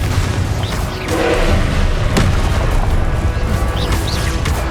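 Fiery spell blasts in the Hogwarts Legacy video game, a short burst of booming impacts with one sharp crack near the middle, all buried in loud, steady battle noise.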